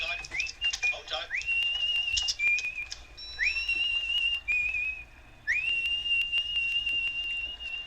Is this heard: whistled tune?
yes